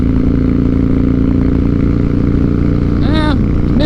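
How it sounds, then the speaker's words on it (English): A Harley-Davidson Night Train motorcycle engine with a slight misfire drones loud and close while riding. A brief rising and falling tone cuts through near the end. "We're misfiring a little bit still."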